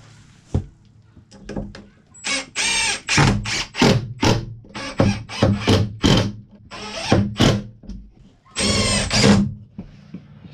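A power drill drives 1.5-inch wood screws into pre-drilled pilot holes in wood inside a travel trailer dinette, with repeated loud whirring bursts of varying length separated by brief pauses.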